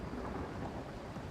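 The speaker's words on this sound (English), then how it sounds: "Oh good, it's raining now." Rain falls in the colony video game RimWorld, a dense, steady hiss with a low rumbling undertone, constant throughout and without any talking.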